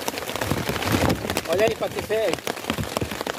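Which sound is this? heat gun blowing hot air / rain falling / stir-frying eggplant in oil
rain falling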